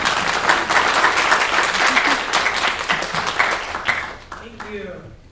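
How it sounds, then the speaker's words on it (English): Audience applause for the panelists at a panel discussion on labor movements; sustained loud clapping that thins out toward the end, with a voice heard briefly as it dies down. "if we could just give a round of applause to all our panelists"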